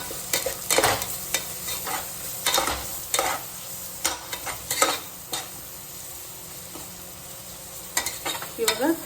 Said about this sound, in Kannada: ಇವಾಗ ಜಿಂಜರ್ ಗಾರ್ಲಿಕ್ ಪೇಸ್ಟ್ ಹಾಕೋತಾ ಇದ್ದೀನಿ.